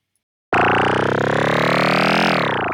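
A synthesized riser from the Serum synth enters abruptly after a short silence and holds as a dense, buzzing wall of tone. Its character shifts as the note moves into its release and slowly fades.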